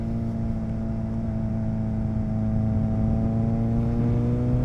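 A motorcycle engine drones steadily on a road while it is ridden hard to heat up its tires, holding a strong, even, humming tone that rises slightly in pitch, close and continuous throughout.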